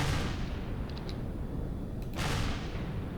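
Ship guns firing at a station in the video game Empyrion, two heavy booming shots a couple of seconds apart, each with a loud rumbling blast and lingering tail.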